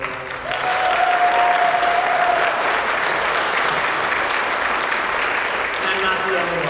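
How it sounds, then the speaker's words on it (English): Audience applause fills an award ceremony hall at the Dragon Awards, a steady, dense clapping from a large crowd sustained throughout with a faint tonal hum beneath. "So let's give him another round of applause."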